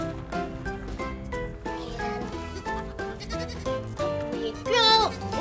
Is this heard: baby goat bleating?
yes